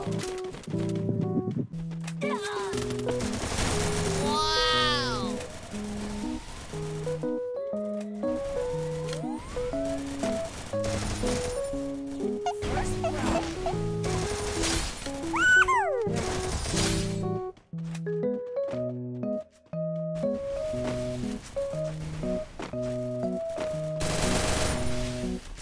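Bursts of automatic and rapid gunfire from the Free Fire battle royale game, layered over steady in-game music, with a few sharper shatter-like hits in the mix.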